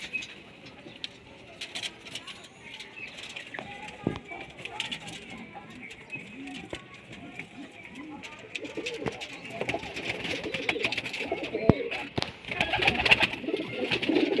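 Male golden pigeons for sale in Multan coo softly and repeatedly up close, with light wing and foot patter, while someone talks over them.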